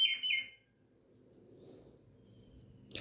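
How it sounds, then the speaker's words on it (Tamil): Sparrows nesting inside a house give a short burst of high chirps at the start, followed by quieter low household noise and a brief faint rustle at the end. "எங்கள் வீட்டில் குருவி வந்து கூடு கட்டியிருக்கு, அதனால் சவுண்ட்லாம் போடும், பயப்பட வேண்டாம்."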